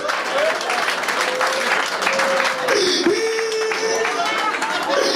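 Applause ripples through the audience at a French stand-up comedy show, with steady crowd clapping and a voice talking over it.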